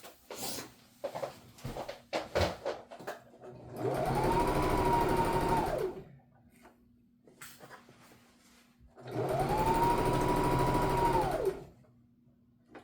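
A sewing machine stitches a robe garment in two long, steady runs of rapid mechanical whirring, each lasting about two seconds, with quieter handling clicks and fabric shuffling between them.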